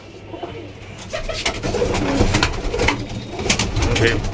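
Imported-line pigeons coo inside a loft, with repeated soft, close calls and wing flutters over a low hum of other birds.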